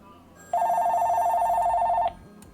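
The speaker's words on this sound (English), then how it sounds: "Sorry about the phone." A telephone rings in one continuous electronic trill lasting about a second and a half, loud and close, standing out over a quiet room where someone is assembling a shell house.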